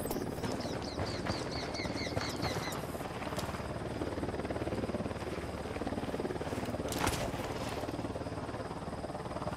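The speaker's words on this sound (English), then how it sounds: "Chopper's approaching." Helicopter approaching in the video game Ghost Recon Wildlands, a faint, steady rotor drone under game ambience with a brief electronic beeping alarm early on.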